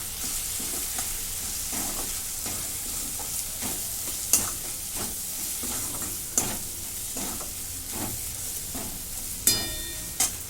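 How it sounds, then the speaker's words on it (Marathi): Spices with garam masala and Kashmiri chili powder sauté in a pan, a close sizzle broken by regular scraping strokes of a stirring spoon and a few sharp clinks against the metal. "आता हे सगळं परतून घेतो."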